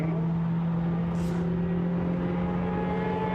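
GT4 race car in the European Series at the Nürburgring, a steady loud engine drone with a sustained tone, approaching and passing.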